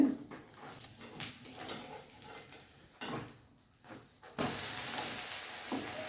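Bun dosa sizzles in a pan as it cooks, the frying hiss rising and falling softly under faint scraping, then swelling into a louder, steady sizzle toward the end.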